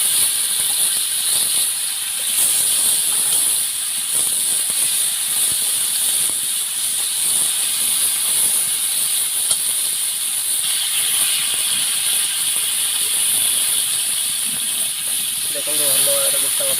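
Whole fish sizzling and frying in hot oil in a home kitchen pan, a steady loud hiss with crackling spatter throughout, continuing evenly with no breaks.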